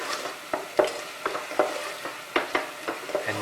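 Spices for a meat madras frying and being stirred in a pressure cooker, with a steady low sizzle broken by regular scraping strokes of a spoon about twice a second, close and moderately quiet.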